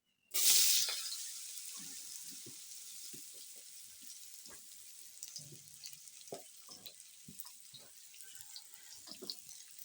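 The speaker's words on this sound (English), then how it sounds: "You add the flour. After adding flour, you mix like this" Flour is being mixed into a potato dish cooking in a pot during outdoor village cooking in Africa. A loud burst at the start gives way to steady sizzling with scattered scraping and stirring knocks, and no one talks.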